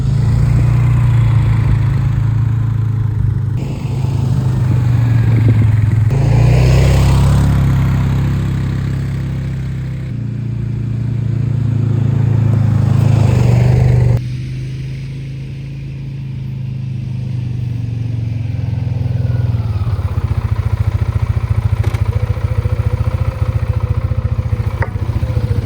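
A Polaris Sportsman ATV quad bike engine runs loud and close, revving up and easing off in long swells while riding to warm the fluids, with no voices.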